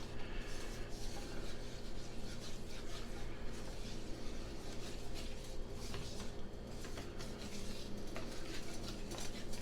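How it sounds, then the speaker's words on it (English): A wooden whisk stirs green peppercorn sauce in a pan on the heat, a soft continuous scraping and swishing with faint clinks and a low simmer, steady and quiet with no talk. "I'm going to switch to a wooden whisk."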